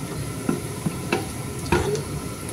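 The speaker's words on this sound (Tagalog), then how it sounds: "Yung chicken breast, guys, i-fry ko na siya." Chicken breast sizzling in a frying pan, a constant close hiss punctuated by several distinct stirring scrapes and clinks at irregular intervals, with no voices.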